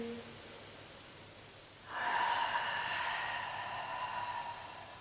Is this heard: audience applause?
no